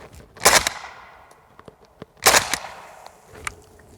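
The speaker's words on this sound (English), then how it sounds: "Now let's move over to the Brown Bear Subsonics. See if it cycles." An AK-pattern rifle fires Brown Bear subsonic ammunition outdoors: two loud, sharp reports about two seconds apart, each with a ringing decay, followed by fainter clicks and rattles of the action.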